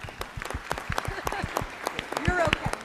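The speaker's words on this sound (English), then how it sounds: "Please give them another round of applause" Applause from an audience at a Marlboro Township Public Schools gathering, a steady patter of many hands with voices mixed in over the short stretch.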